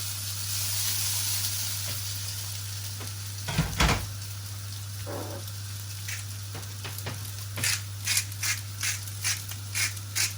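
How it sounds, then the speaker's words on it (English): Noodles fry in a little hot oil in a hot pan, a steady close sizzle with a clatter near the start. A run of regular ratcheting clicks comes later, with no voices. "just a little bit of oil in the pan there. I've got a nice hot pan. And in they go"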